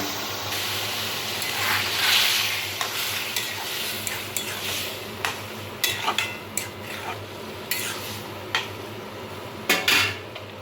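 Ridge gourd pieces frying in hot oil with white mustard seeds, a constant sizzle broken by repeated sharp clinks and scrapes of a spatula stirring against the pan.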